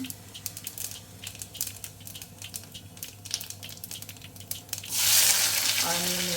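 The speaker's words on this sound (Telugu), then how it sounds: "ఆయిల్ హీట్ ఎక్కింది జీలకర్ర వేసాను" Cumin seeds hit hot oil for a dal khichdi, giving a low crackling background that swells into a loud, steady sizzle in the last second or so.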